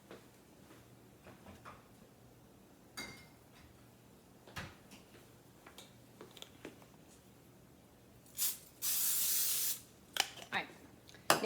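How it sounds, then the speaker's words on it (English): Pam cooking spray spritzed into a lined baking pan in a home kitchen, one steady hiss of about a second after scattered light clatter of kitchen handling; quiet, close, no talk. "I'm gonna get some Pam and just spray it just a little bit."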